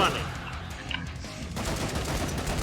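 Repeated weapon fire in the zombie-shooter video game Killing Floor 2, clustered shots and bursts running throughout at moderate level, with game noise and some voice mixed underneath.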